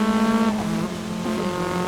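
A race car in the video game GRID drives past with a loud, sustained engine drone that shifts pitch as it accelerates, without talk.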